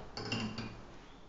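Pasta is served onto a plate at home, with a few clinks and scrapes of utensils against dishware over about a second, fairly close and moderately loud.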